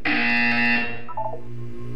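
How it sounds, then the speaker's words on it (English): A synthetic buzzer from the video game Portal 2 blares loud and steady for about a second, then gives way to a low hum and a short electronic chirp. "You will hear a buzzer."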